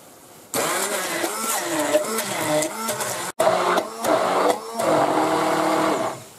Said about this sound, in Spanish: Y ahora lo batimos todo